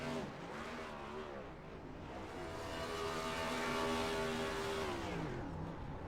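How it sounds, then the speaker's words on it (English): Simulated NASCAR Cup cars in iRacing drone faintly as they do donuts and burnouts, the engine tone swinging up and down in continuous looping revs. "And Don DeGroot's also doing burnouts as well."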